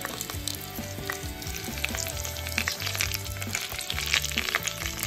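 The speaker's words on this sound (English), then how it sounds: "I'm going to also cook fish fingers." Fish fingers frying in hot oil, a dense, loud close-up sizzle with popping crackles continuing throughout over faint background music, with no one speaking.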